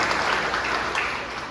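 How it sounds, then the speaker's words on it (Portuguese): Audience clapping at a lecture, a loud, dense and continuous round of applause from a crowd, sustained throughout without any voices. "Uma salva de palmas aí para quem fez contato."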